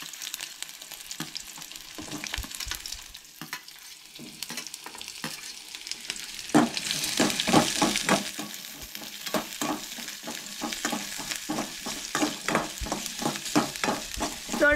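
Soybeans fry in oil with onion and garlic, a steady close sizzle broken by repeated scraping and clicking stirs that grow louder and more frequent partway through.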